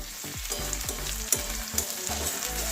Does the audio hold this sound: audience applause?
no